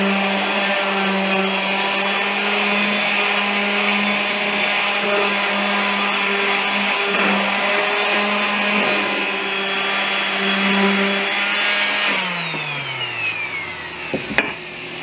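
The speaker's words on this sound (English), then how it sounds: "I'm going to start off with sanding down the legs." A power sander with fresh 180-grit pads works down wooden kitchen table legs, giving a loud, steady whine with rubbing grit. Near the end the motor spins down in a falling pitch, followed by a few light knocks.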